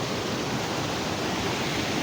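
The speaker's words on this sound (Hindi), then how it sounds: "शदीद तरीन तुग़यानी, वो चेक करें आप, बिखरे हुए नाले।" Rushing floodwater pouring through overflowing drains during heavy rain and thunderstorms in Kashmir, a constant loud broadband roar with no pauses or voices.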